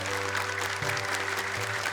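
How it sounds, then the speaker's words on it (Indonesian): Clapping from a studio audience on an Indonesian televised Quran memorization contest, a dense, steady patter lasting about two seconds, with a faint low hum underneath. "tepuk tangan untuk Anda semuanya"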